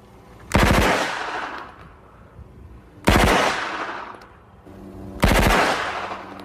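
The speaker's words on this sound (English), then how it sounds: "I will fire two 3-round bursts initially" Three sharp bursts of MP5 submachine gun fire, the 9mm-style rapid rounds cracking loudly at evenly spaced intervals, each followed by a decaying echo, with no voices.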